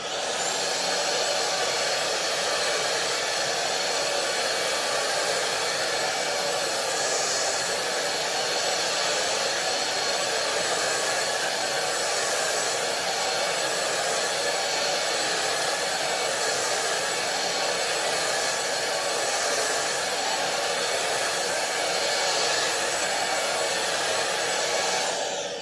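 Cordless vacuum with a soft roller cleaning head making several passes over dusty floor: a steady, loud, unbroken motor whine with airy hiss that holds evenly throughout, no voices.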